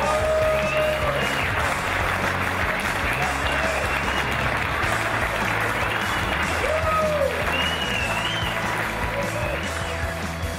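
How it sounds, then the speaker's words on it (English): An audience applauds the winning team at the 2011 Bermuda Billfish Blast fishing tournament, steady continuous clapping from a crowd at a constant level, with faint voices and whistles underneath. "Come on, let's hear some applause for that."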